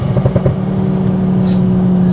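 A hybrid-turbo MK2 Focus ST making 380bhp revs in a few quick pulses, then settles into a loud, steady engine drone heard close up from inside the car, with no talking over it.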